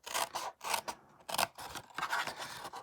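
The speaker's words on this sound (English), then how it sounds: "we're just going to trim these guys down too" Scissors trim paper craft pieces for a Christmas treat box, several crisp snipping cuts in an uneven rhythm with brief pauses between them, close and quiet.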